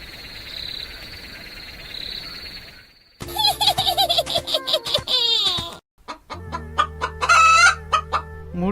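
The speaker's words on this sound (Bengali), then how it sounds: "মনে হইতেছে ওইদিকে একটা মুরগি ডাকতাছে" Chickens clucking and a rooster crowing, with rapid excited clucks and a drawn-out crow heard close and loud, chirping insects and frogs in the background, and no talking.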